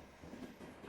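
A train pulls in within a metaverse roleplay video game, a steady rumbling rail sound with clattering wheels, fairly loud and continuous throughout the short moment, with no talking.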